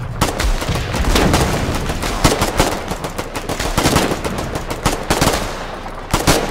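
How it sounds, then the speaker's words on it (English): Dense, continuous gunfire in the video game Foxhole as a squad shoots at an enemy pillbox, rapid automatic bursts and overlapping shots running loud and nearly unbroken throughout. "everyone shoot at this pillbox"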